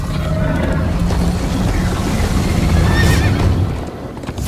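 A horse in Minecraft: Story Mode whinnies over a steady rumble of galloping hooves and dramatic noise, loud and continuous throughout.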